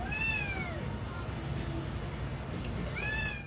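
A foster kitten recovering from surgery meows twice, one clear rising-falling cry at the start and another near the end, close and fairly loud over a soft background hum.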